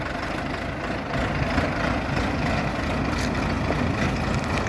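A Bulat 504 tractor with a 50-horsepower engine runs steadily nearby, a continuous low diesel drone holding even and loud throughout as the machine sets off on the road.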